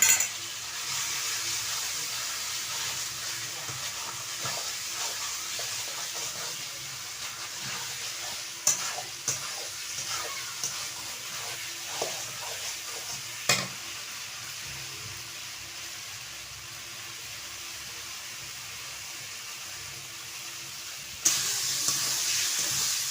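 Fried potatoes are stirred into a cooked spice paste in a pan for a Bengali fish roe curry, giving a low steady sizzle broken by a few sharp scraping knocks of the spoon, with no voices.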